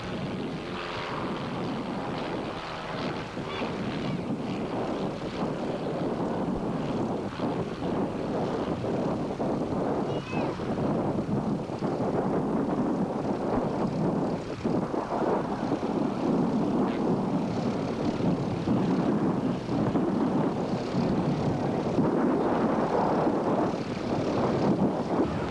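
Propeller aircraft of a formation display team at the 1984 Masterton air show in New Zealand, flying a turn in crosswind conditions; a steady, broad engine drone with wind noise holds throughout, fairly loud and continuous.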